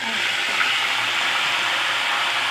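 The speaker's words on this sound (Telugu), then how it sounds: "కరివేపాకు యాడ్ చేస్తే పోపుని ఈ సాంబార్లో యాడ్ చేయాలి." Hot tempering of chillies, garlic, cumin, mustard seeds and curry leaves poured into lentil sambar, a continuous loud hiss and sizzle heard close up with no talk.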